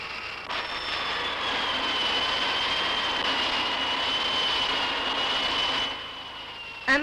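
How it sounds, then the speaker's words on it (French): A rock drill in an iron ore mine in Lorraine, driven forward on its slide by an auxiliary motor, gives a steady, loud, grinding roar with a high whine that holds for about five seconds, then drops away at the end. "Un moteur auxiliaire applique une forte poussée à la perforatrice qui avance sur sa glissière."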